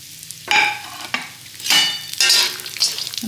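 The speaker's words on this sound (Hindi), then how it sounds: "अब इनको मैं थोड़े से तेल में फ्राई कर लूँगी" Almonds, raw coconut, raisins and cashews frying in a little oil, with bursts of sizzling and scraping stirs coming in uneven waves, close and fairly loud.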